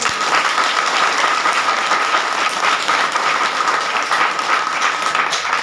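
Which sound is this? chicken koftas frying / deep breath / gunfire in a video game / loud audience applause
loud audience applause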